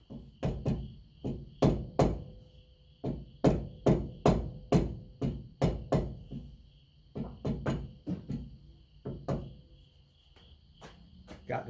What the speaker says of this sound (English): And need a hammer to tap it in place.